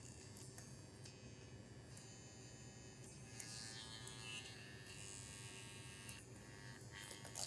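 A small electric toothbrush fitted with a strain gauge hums steadily throughout, a constant buzzing drone close to the microphone with a brief louder swell midway.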